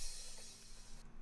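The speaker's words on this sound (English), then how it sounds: "This is a simple crash that you will see in any project." A bright, washy cymbal crash rings out and sustains, its shimmer cutting off abruptly near the end.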